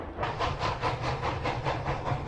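Strasburg 68 steam locomotive in the Roblox game RO-Scale, a rhythmic chuffing hiss with regular pulses over a low rumble, fairly loud and close.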